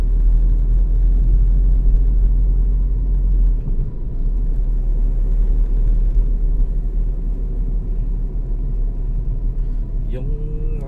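Night traffic on EDSA in Ortigas, Pasig City, a steady low rumble of passing cars and engines heard from nearby, continuous and fairly loud, with no clear talk.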